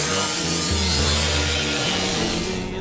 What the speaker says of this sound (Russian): После распила мы стругаем и шлифуем